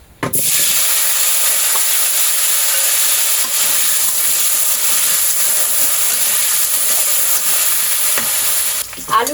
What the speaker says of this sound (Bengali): এখন আলুগুলো হালকা করে ভেজে নিব।